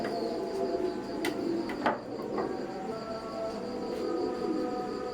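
Oman bloodline teddy pigeons coo softly and steadily, a low murmuring over a constant hum, with a few brief sharp clicks and faint high bird chirps breaking through.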